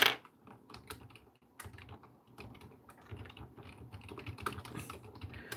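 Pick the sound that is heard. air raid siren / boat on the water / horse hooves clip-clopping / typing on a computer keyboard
typing on a computer keyboard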